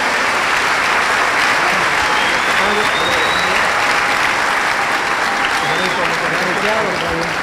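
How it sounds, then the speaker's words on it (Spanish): Sustained applause from a church congregation, steady and dense throughout, with a crowd murmur and a few voices mixed in. "un aplauso a los hermanos"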